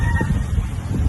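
Quick quacks from three ducks amid a low, rumbling background.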